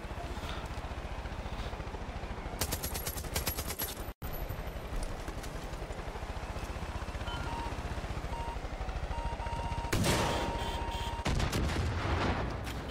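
Bursts of rapid gunfire crackle in Far Cry 5 game audio, with sharp volleys and a loud crack midway, over a steady background ambience; no one speaks.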